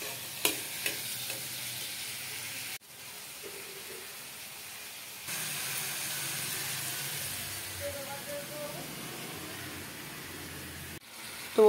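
Chicken mince frying with onions and capsicum in a pan gives a steady, moderate sizzle and hiss, with a few soft stirring scrapes and clicks scattered through.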